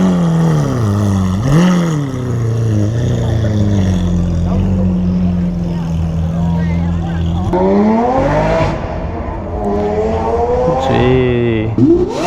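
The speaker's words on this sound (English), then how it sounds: "That's a loud car." A loud car drives past at a Lamborghini meet, its engine rising and falling in pitch with revving pulls and gear changes, close and dominant, while people talk excitedly over it.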